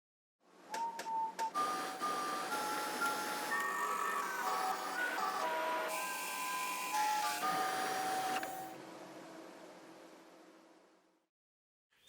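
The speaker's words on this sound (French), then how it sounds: "c'est une scie à ruban à descente autonome et à variateur de vitesse" A SIDAMO SR 276 DAV variable-speed band saw with automatic descent starts up with a loud whirring whine whose pitch steps up and down, then winds down and stops.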